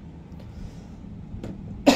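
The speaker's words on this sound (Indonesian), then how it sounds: "Bentar bos, batuk dulu bos." A single sharp cough bursts out near the end, close and loud against a quiet room, with a fainter throat sound shortly before it.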